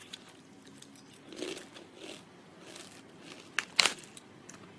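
Crunchy caramel snack from a sweet-treats shop is bitten and chewed, giving a few soft, crisp crunches at close range, with one sharper crackle toward the end against a quiet background.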